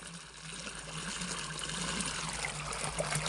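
Water runs from a tap in a home setting, a soft steady trickle and splash that builds slightly, close and continuous, with no talking.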